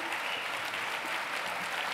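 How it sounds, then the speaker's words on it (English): Dense, steady round of audience applause at a children's museum gala, a full room of hands clapping evenly without a break. "Let's give Les another round of applause, ladies and gentlemen"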